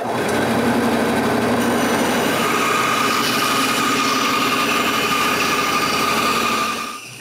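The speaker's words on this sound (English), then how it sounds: "any excuse is good to show off my new bandsaw" A new bandsaw slices through a chunk of walnut wood with a steady, loud mechanical whine and hum that holds evenly for about seven seconds, then quickly drops away. No one speaks.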